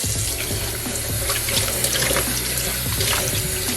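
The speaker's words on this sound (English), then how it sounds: "I'm just going to run hot water and toss them so that they don't cook" Hot water runs from a kitchen tap over shrimp being tossed in a sink, a loud, steady, close splashing rush that continues without a break and has no talking over it.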